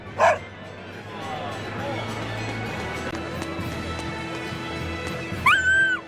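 A dog barks in the video game Tales of Berseria, one sharp bark at the start and a brief higher yip near the end, over a steady game soundtrack.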